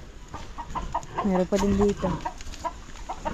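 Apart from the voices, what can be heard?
hen clucking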